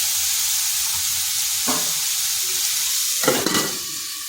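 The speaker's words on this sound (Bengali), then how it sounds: "না আলু কুঁদরিকে ভেজে নেব" Potatoes and ivy gourd fry in a pan with a steady, close sizzle throughout, broken by a few louder crackling bursts as the pieces are stirred, with no talking.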